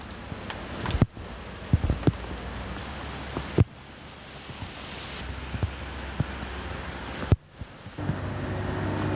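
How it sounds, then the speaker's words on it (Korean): Heavy rain pouring down outdoors during a sudden summer downpour at a pine tree transplanting site, a dense, steady hiss with wind buffeting and abrupt cuts and thuds between shots. "갑자기 구름이 몰려온다 싶더니 비가 쏟아진다."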